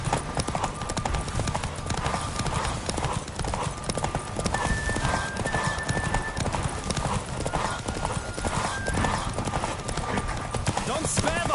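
Hooves pound continuously as a horse gallops during a race in The Witcher 3: Wild Hunt, a loud rapid drumming heard under voices and game sound throughout.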